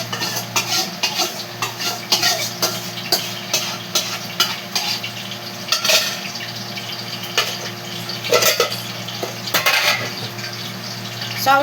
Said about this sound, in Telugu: ఆయిల్ వేస్తున్నాను. ఆయిల్ పడుతుంది.